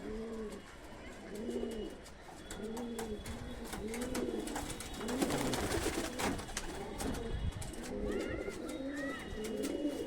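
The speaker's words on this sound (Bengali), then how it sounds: "দেখুন বন্ধ লেজের পায়রা," Domestic high-flying pigeons cooing nearby, a steady run of repeated soft, throaty coos in a regular rhythm with faint background noise.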